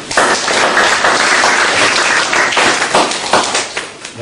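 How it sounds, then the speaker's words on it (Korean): A university operating systems classroom audience claps together, a dense burst of applause with distinct hand claps that thins out and tapers toward the end. "네, 박수."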